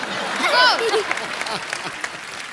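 Studio audience applause on a comedy talk show as a guest is invited on, with crowd clapping and cheering beneath a voice and a brief whistle-like sung tone early on.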